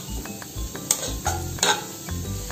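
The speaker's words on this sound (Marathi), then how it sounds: "भोपळ्याचा किस तुपात चांगला परतवून घेऊ" Grated pumpkin is stirred and sautéed in ghee in a pan, a soft close sizzle broken by a few sharp clinks of a spatula against the pan.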